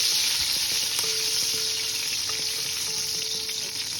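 Raisins, cloves and cardamom frying in hot oil for chicken pilau, a continuous close bright sizzle with faint crackles, steady throughout.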